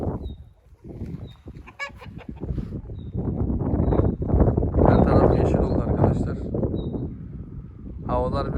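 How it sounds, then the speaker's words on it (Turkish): Wind gusts across a cold village yard where ducks and chickens roam, a steady broadband rush under loud honking fowl calls and someone talking throughout. "Rüzgar falan esiyor bayağı kötü yani"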